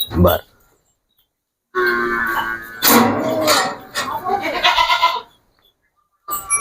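Several Sirohi goats bleat in short, wavering calls, some overlapping, with brief silent gaps between bursts, close by.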